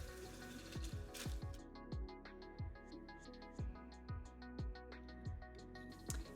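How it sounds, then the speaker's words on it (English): Frozen Thai basil muddled in a glass after a dose of liquid nitrogen, giving a steady series of about a dozen close, sharp crunching thuds at a regular beat, with faint crackly hiss between strikes and no talk. "Then, whilst the herbs are frozen, I'm going to muddle them."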